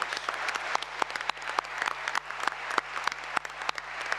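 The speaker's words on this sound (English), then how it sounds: "Please join me in giving them a" Applause from a panel audience for the hosts, with a steady bed of clapping broken by frequent sharp, close individual claps and a low constant hum underneath.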